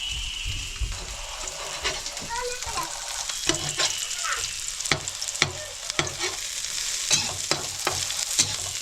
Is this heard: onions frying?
yes